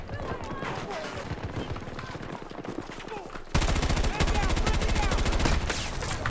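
Dense automatic gunfire with heavy recoil in the shooter game Battlefield 2042 rattles on for several seconds, then jumps louder into a sustained, rapid burst of shots.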